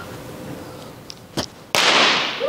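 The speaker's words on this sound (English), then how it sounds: "it should initiate the thermite reaction and make a loud bang" An iron cannonball strikes a similar cannonball coated in aluminum foil, setting off a thermite reaction. A few faint clinks come first, then one sudden, loud, sharp bang that rings off over the next second.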